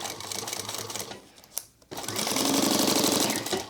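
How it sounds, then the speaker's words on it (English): Sewing machine stitching a sling crossbody bag, running in steady close, loud bursts of rapid needle clatter with a brief pause in the middle before the stitching resumes. "that's where I'm going to begin stitching"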